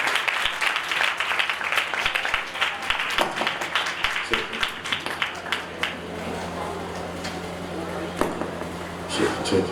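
Church congregation clapping, a dense wash of hands with sharper individual claps, accompanied by a sustained keyboard drone and a voice speaking over it.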